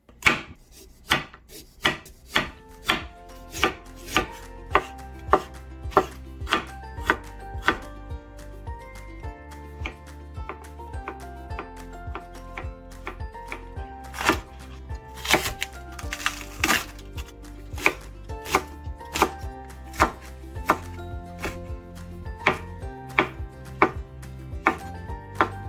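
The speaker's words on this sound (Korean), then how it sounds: "자, 이제 잔치국수에 들어갈 채소 썰어줄게요." A knife chops vegetables steadily on a cutting board, with rapid repeated thuds at an even rhythm and short pauses between bursts, close and clear.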